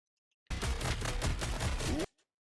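Rapid, steady automatic gunfire from The Hood in the hero shooter Marvel Rivals, a dense burst of closely spaced shots lasting about a second and a half, loud and close, then cutting off abruptly into silence.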